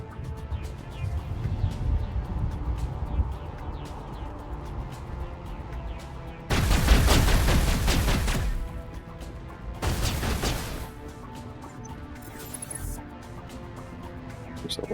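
Gunfire and explosive blasts in the sci-fi shooter Mass Effect Legendary Edition, with two loud, dense bursts of shooting standing out over a steady background of game combat noise.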